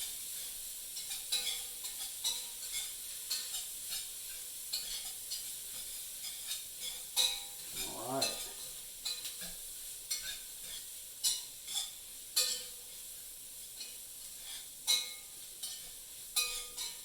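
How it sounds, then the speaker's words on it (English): Chopped vegetables cooking in a flour and butter roux in a hot pot for shrimp étouffée, a soft steady sizzle with repeated stirring taps and scrapes, close and alone. "just the heat from the pot is going to start to cook the vegetables"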